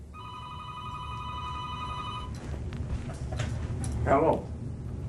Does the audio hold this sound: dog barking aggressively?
no